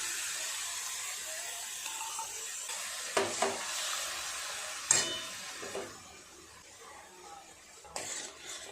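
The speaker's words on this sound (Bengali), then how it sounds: "খুব ভালো করে নেড়ে চেড়ে মশলাটা থেকে তেল কাটা পর্যন্ত এইভাবে নাড়ব।" Spice paste for hilsa biryani sizzling and frying in oil as it is stirred, a soft steady hiss broken by a few scraping clicks of the spoon against the pan, fairly faint and with no talk.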